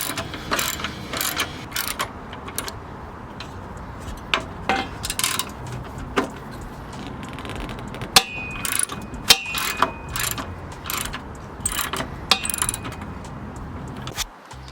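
Latch bolts being removed from a Lexus IS250 car with a ratchet: steady, close, fairly quiet clicking runs throughout, with occasional sharper metallic taps and clinks.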